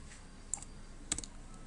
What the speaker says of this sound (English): So you just type in your web browser